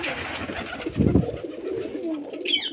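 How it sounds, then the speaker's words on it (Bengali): A pigeon gives a low, throaty coo close by, then quieter bird sounds follow against a soft background. "ভালো ভালো লাইনে পায়রা আছে"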